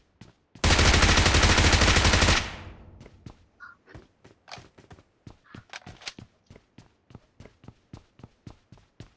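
Gunfire in the BGMI battle royale mobile game: a loud continuous burst of automatic fire lasting about two seconds, then a long series of evenly spaced single shots, quieter and rhythmic.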